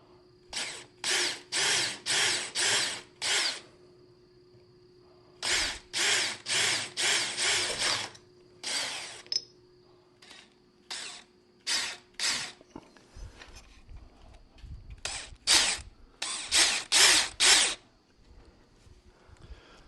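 A power drill drives single screws into brackets on an outdoor beech wood table, several short bursts of whirring in repeated groups, close and loud, with pauses between them and no talking.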